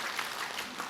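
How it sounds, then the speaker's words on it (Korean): An audience at a Buddhist dharma talk gives a short, dense burst of applause, many hands clapping together at an even level for a moment. "박수로 맞으세요"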